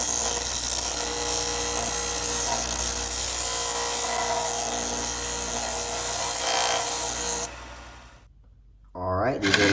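A belt sander grinds and smooths the edges of a metal sword hand guard, a loud continuous abrasive whir held for several seconds before the machine cuts off and spins down, followed by a short clatter.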